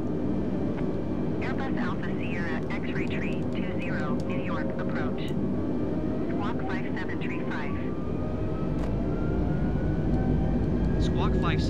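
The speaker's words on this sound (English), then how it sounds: "I love hearing those engines throttle up." Airliner jet engines spooling up in Microsoft Flight Simulator 2020, a steady loud roar with rising whine tones, running continuously under game chatter.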